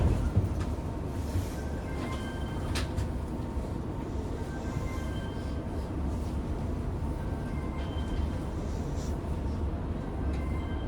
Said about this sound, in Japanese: 急停車大変失礼いたしました。